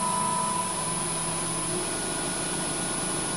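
Wood lathe fitted with a ladle chuck spinning at high speed, a steady, loud mechanical whir with a constant motor hum and a faint high whine, unchanging throughout with no talking.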